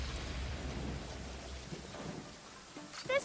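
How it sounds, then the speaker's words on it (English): Steady rain with low thunder rumbling in the fantasy game Genshin Impact, a continuous dense wash that eases slightly before a brief chime-like game sound at the end. "Raining again."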